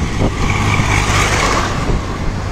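A TVS XL 100 moped engine runs at close range, a loud, steady low rumble that holds an even pitch with no break.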